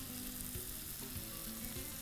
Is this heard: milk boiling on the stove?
yes